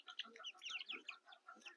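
Small local desi chicks, raised by hand, let out faint, thin high peeps and soft clucks in quick scattered bursts, heard close in an otherwise quiet setting.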